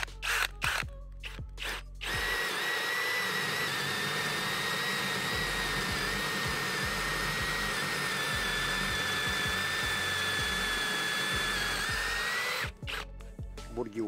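An Erbauer ECD18-Li-2 18V cordless drill with a 15 mm Bosch twist bit whines steadily at high pitch as it bores, with brief bursts of clatter and handling noise at the start and end.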